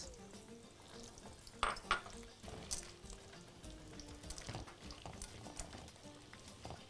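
Almonds sautéing in a pan with minced garlic, giving a quiet, steady sizzle with light patter, a few sharp clinks of a utensil against the pan, and occasional stirring scrapes.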